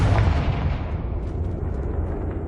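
A Confringo fire blast spell in Hogwarts Legacy bursts with a loud, close booming explosion that rumbles heavily at first, then fades into a lingering crackling tail over a couple of seconds.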